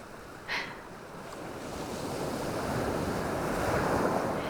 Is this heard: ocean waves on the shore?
yes